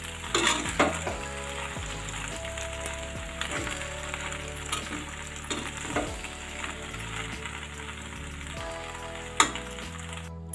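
Veg cheese macaroni is mixed in a hot pan, giving a continuous sizzle with scraping spoon strokes and light metallic clinks at irregular intervals.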